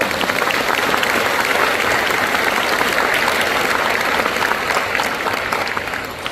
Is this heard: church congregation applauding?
yes